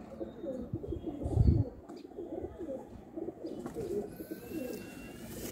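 A young pigeon gives a low, soft coo close by, with faint rustling and background chirps around it.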